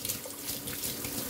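Strong water runs from a kitchen tap in a short, steady, full-bodied hiss of splashing flow.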